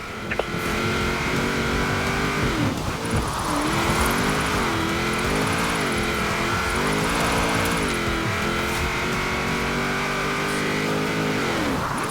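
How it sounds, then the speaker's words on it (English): A car drifting in Forza Horizon 4, its engine droning and revving up and down continuously with sustained tyre squeal and wavering pitch, loud and close with no talk. "Now let's really shred those tyres"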